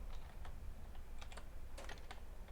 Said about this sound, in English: I'll just type in Express.